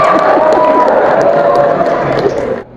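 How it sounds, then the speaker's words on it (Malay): A school audience of high school and vocational students bursts into applause and cheering during a motivational talk, a loud continuous wash of clapping with voices mixed in that cuts off abruptly near the end. "Oh, tepuk tangan, alhamdulillah"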